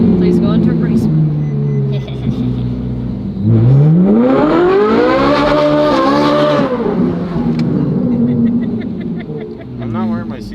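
A Ferrari fitted with an F1 exhaust revs hard inside a tunnel, its loud echoing engine note sweeping up through a long howl and settling back to a burbling idle, with people talking around it.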